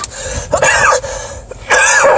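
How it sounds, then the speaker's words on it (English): A few harsh throat-clearing coughs in quick bursts, close and loud, separated by short pauses. "I'm trying to cough again"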